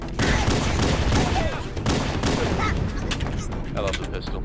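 Rapid pistol fire in Halo, loud repeated cracks in quick succession throughout, layered with game combat noise and occasional faint voices underneath.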